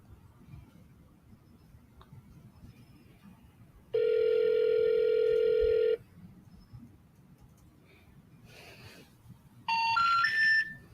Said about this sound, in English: Next, we're calling Lawrence.